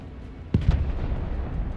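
Rocket artillery fire from an M270 launcher in the video game Broken Arrow: a few heavy booming blasts with a low rumble between them, loud and close, with no voices.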